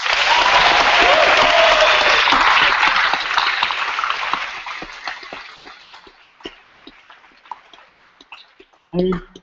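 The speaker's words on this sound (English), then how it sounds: "They deserve a round of applause." Audience applause at a debating grand final, a loud, full burst of crowd clapping that gradually thins into scattered claps, followed by a brief voice near the end.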